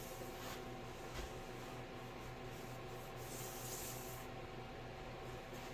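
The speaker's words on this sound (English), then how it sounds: "sand it with 400 grit or finer sandpaper" Quiet, steady scratchy rubbing of 400-grit or finer sandpaper against a wood slab, continuous and soft, with a few light bumps.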